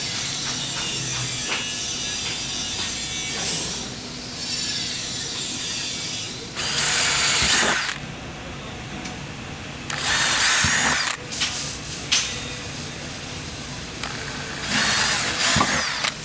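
A power drill bores rivet holes for Can-Am Defender fender flares, loud, close bursts of whirring separated by short pauses and ratcheting clicks, with no voices.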